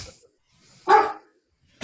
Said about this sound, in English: Is your dog hearing my dog?